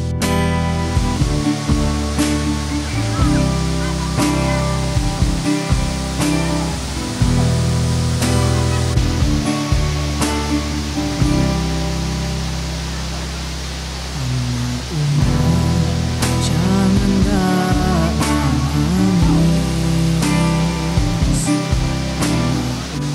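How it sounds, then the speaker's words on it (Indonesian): Napal Kuning waterfall in Tebat Lereh village pours with a loud, continuous broadband rush, heard alongside steady background music. "akhirnya air terjun Napal Kuning dapat kita nikmati"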